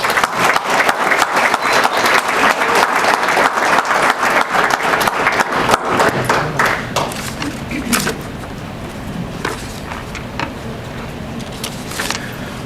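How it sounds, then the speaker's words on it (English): At a 4-H Hall of Fame and membership dinner, an audience claps loudly and energetically for several seconds, then the applause thins out into scattered claps, bumps and room noise. "Let's have a big round of applause."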